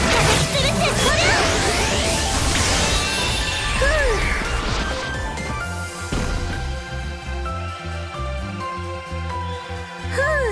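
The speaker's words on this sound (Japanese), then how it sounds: "まとめて一気に叩き潰す。" Smashing final-skill attack from the Phantom of the Kill mobile game, swimsuit Sita: a dense, loud barrage of crashes, whacks and swooshing effects over game music, with a heavy impact near the start and another burst at the end.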